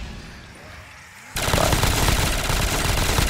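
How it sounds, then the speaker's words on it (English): A grenade launcher fires in a Call of Duty Zombies match, a quiet lull abruptly giving way to a loud, sustained barrage of explosive gunfire that fills the rest of the moment. "Shoot with your grenade launcher, like right about now"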